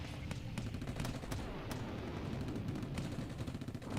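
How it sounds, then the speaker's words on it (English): A distant explosion in the Steins;Gate 0 video game, heard as a dense rumbling barrage with repeated sharp cracks, sustained and fairly loud, with no voices. "She heard an explosion in the distance."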